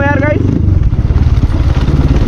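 A Honda CX250R motorcycle with its dB killer removed rumbles loudly and close as it rides, a gritty, throbbing exhaust note that pulses unevenly throughout.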